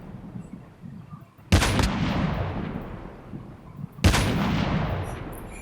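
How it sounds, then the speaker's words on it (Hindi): Two loud, booming sniper rifle shots in the mobile shooter game Call of Duty Mobile, spaced a few seconds apart, each with a long rolling echo trailing off over faint background ambience. "मैं स्नाइप कर रहा था, लेकिन एक शॉट मिस होता है, लेकिन दूसरा शॉट सही लगता है।"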